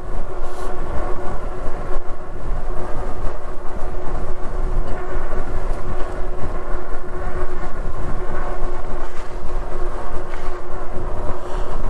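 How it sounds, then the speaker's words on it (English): Strong wind rushes past an ebike rider cruising along the Mississippi Gulf Coast beachfront, a loud, steady broadband roar buffeting constantly without any voices. "Whoo, that wind's whipping."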